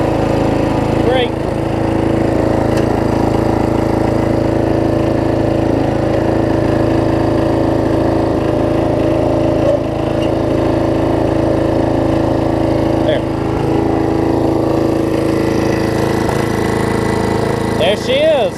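A Murray rear-engine riding mower with a freshly reassembled transmission runs steadily nearby, its droning engine loud and constant, with brief clanks and a voice speaking over it now and then.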